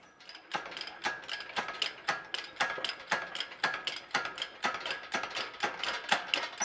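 Bolts come off the rear suspension of a 1956 International COE truck with an even, rapid ratcheting clatter that repeats steadily and sounds fairly close.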